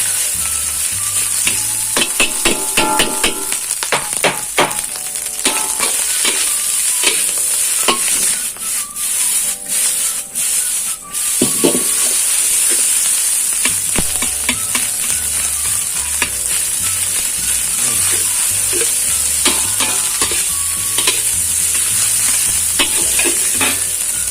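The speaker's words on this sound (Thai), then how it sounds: "ค่อยผัดไปนะครับ เดี๋ยวข้าวมันก็จะแยกันเอง" Fried rice with grilled fermented pork sausage is stir-fried in a hot pan: a loud, constant sizzle overlaid by brisk metallic spatula scrapes and clatters, with steady tossing strokes throughout.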